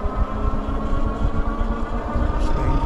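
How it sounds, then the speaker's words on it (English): A car overtaking from behind on a road while riding a Wallke H9 AWD dual-motor e-bike: a steady low engine rumble with broadband road and wind noise, fairly loud and continuous. "Car coming up behind me."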